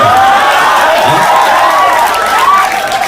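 Audience applause and cheering at a youth gathering addressed by a minister, a steady loud wash of clapping and crowd noise that carries on throughout, with voices mixed in.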